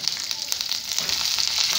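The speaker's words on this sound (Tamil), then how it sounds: "ஒரு பச்சை மிளகா, பொடியாக நறுக்கின பச்சை மிளகா ஆட் பண்ணிக்கிறேன். ஒரு கொத்து கருவேப்பிலை அதையும் ஆட் பண்ணிக்கலாம்." Chopped green chili and a sprig of curry leaves crackle and sizzle in hot oil, a steady bright frying hiss close up with scattered pops, no voices.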